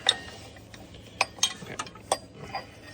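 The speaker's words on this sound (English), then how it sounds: "And you're going to pull the bolt out." A 15mm bolt is pulled from a 2016 Chevy Malibu 1.5T engine, giving a handful of light, separate metallic clinks and ticks, close and crisp over quiet background, with no talk.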